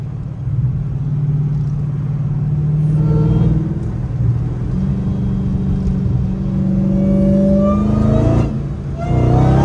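A Chrysler Hellcat engine rated at 800 hp revs hard with the tires losing traction, a loud steady rumble with rising engine tones building toward the end.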